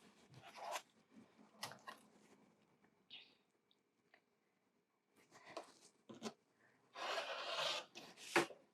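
Scissors or a cutter slice quilting fabric in short separate bursts of crisp rasping snips, close and fairly quiet, with quiet gaps between and a longer cutting stretch near the end; no voices.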